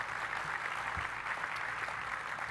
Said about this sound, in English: So a big round of applause for Bob.